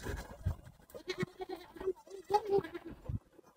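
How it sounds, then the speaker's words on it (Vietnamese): Goats bleat loudly and repeatedly on a rural Vietnamese farmstead, the calls overlapping in a noisy, uneven chorus close by, with a little human voice faintly mixed in. "Bây giờ là con dê kêu om sòm luôn."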